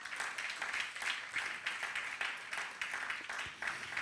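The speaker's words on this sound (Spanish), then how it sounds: "Dale un aplauso al Señor en esta noche." A church congregation clapping for God at an evening service, a lively rhythmic mix of many hands with regular pulses and slightly uneven spacing, fairly close and without speech.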